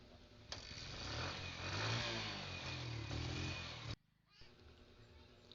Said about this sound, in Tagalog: nakita niya uli na umandar yung motor niya